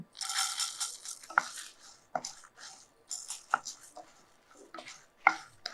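Dry urad dal is tipped into a roasting pan with chillies, giving a series of sharp, close rattling clicks and scattered grain patters in short bursts, with quiet gaps between them.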